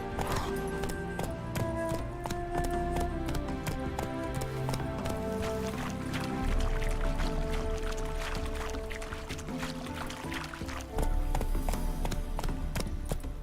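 Horse hooves clip-clop at a steady gallop in The Witcher 3: Wild Hunt, a rhythmic run of hoofbeats alongside game music, with a faint whinny in places and no talk.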